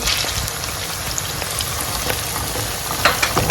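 Blended pepper hits a hot frying pan for a vegetable sauce, giving a steady, close, loud sizzle throughout with a few sharper crackles near the end; no one speaks.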